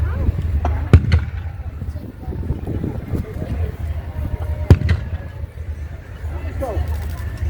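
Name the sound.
3-inch mortar firing at WW2 reenactment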